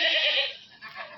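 Goats on a goat farm selling khassi bucks and gulabi breed goats, one bleating loudly and near for about a second, its voice wavering and fading out, with a softer second bleat following, and no talk.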